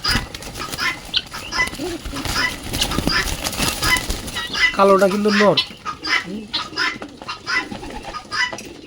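Pigeons coo and flap their wings in a noisy burst as a man catches them by hand, with a person speaking near the middle over steady background bustle.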